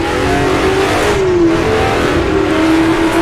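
A Cobra race car in a racing game revs and accelerates downhill on the Greenwood Roadway circuit, running in a pack alongside a Porsche; a steady, loud engine drone with the pitch rising and falling as the throttle is worked.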